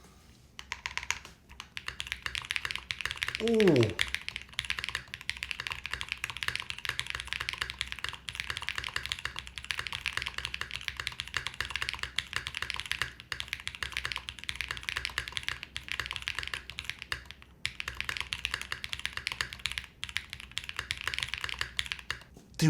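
Mechanical keyboard with a carbon fiber plate, pink Robbin switches, PBT keycaps, mid-plate foam and a copper bottom, typed on steadily and up close with a continuous patter of keystrokes, a brief exclaiming voice early on.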